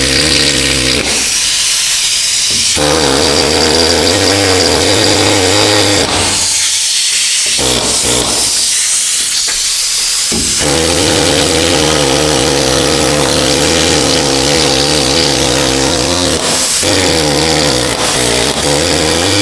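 A pneumatic needle scaler rattles against a rusty bolt on a rear axle, a loud, continuous harsh clatter that runs almost unbroken, with a few short pauses where the air tool stops.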